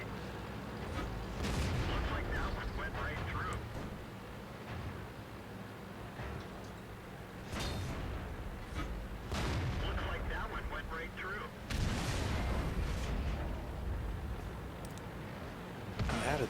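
Tank cannons boom repeatedly in a World of Tanks battle, heavy blasts recurring every few seconds over a steady rumble of engines and battle noise, with someone talking over much of it.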